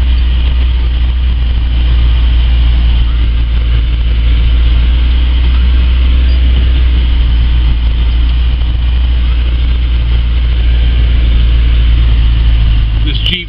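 Jeep Wrangler YJ engine running steadily while pushing snow with a plough, a loud continuous low drone with a person talking over it.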